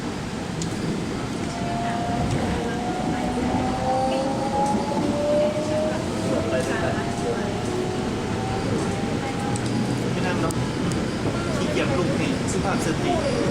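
Steady rumble of a moving train heard from inside, with squealing wheel tones and people talking over it.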